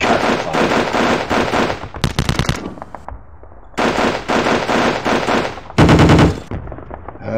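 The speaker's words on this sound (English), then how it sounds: "So much defensive fire." Defensive gunfire in the wargame Sealion '40, heard as loud machine-gun bursts in several rapid volleys with short quiet gaps between them. One burst near the end is heavier than the others.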